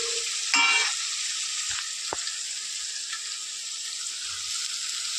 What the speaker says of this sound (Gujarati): આપણો મસાલો મસ્ત મજાનો સોતરાય છે અત્યારે